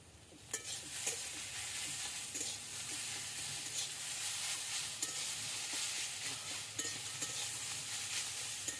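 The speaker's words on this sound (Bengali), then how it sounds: "ভালো করে এবার একটু নেড়ে নেব।" Potato curry with ground cumin, coriander and dry chilli stirred and frying in a pan, a steady close sizzle with scraping stir strokes and occasional clinks of the spoon, no talking.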